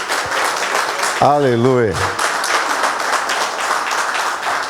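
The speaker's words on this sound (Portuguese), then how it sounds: "Aplauda o Senhor Jesus." A church congregation applauds, giving steady crowd clapping throughout while one voice sings out a long drawn exclamation partway through.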